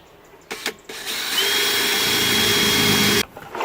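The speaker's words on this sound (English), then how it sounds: "we're going to drill a hole to fit this in here" A power drill boring a hole to fit a PVC pipe for a homemade portable air cooler: a few short trigger bursts, then a loud sustained whine for about two seconds before it stops.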